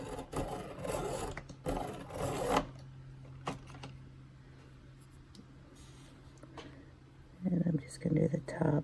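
A Neocolor II wax pastel crayon is sharpened in short, scratchy grinding bursts, followed by a quieter pause and a soft voice near the end.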